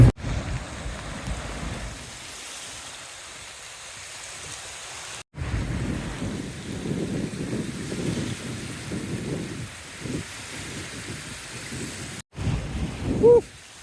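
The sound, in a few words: light rain drizzling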